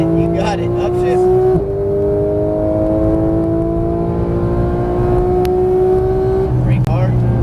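Porsche 991 GT3 engine braking hard on track, a steady high engine tone sweeping down through downshifts with a pitch jump near the end, loud inside the car while a voice talks over it.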